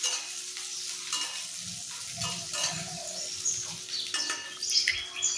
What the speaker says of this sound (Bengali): গ্যাসের ফ্লেম লো টু মিডিয়াম করে এবার কুমড়োগুলো মোটামুটি 1 থেকে 2 মিনিটের জন্য ভালো করে ভেজে নেব।